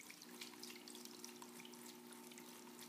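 Water falls steadily onto a small model hydropower turbine, a faint continuous splashing patter with a low steady hum beneath it, and no talking.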